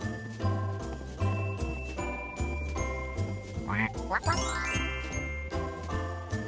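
Short cartoonish duck quacks from the kids' counting game Farm 123 repeat over a bouncy, jingling game melody, with a rising chime sweep near the end.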